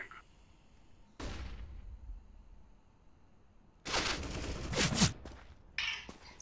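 A flashbang grenade detonates in the CS:GO video game, giving a sharp broadband burst followed later by a louder, longer explosive blast and a brief tail, with no speech.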